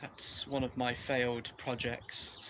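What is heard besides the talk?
No everyday noise stands out behind the speech.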